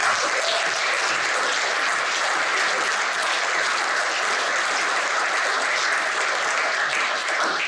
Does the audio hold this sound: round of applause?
yes